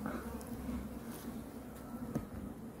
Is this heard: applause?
no